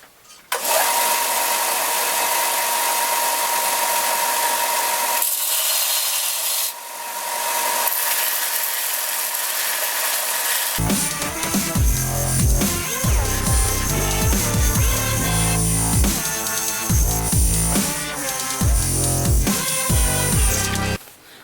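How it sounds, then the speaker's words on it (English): Machete steel being ground into a kitchen knife profile, a loud continuous grinding and rasping roar that runs throughout, with a coarser, denser stretch of abrasive contact in the second half. "I'm gonna reset up the camera and start grinding away at the profile."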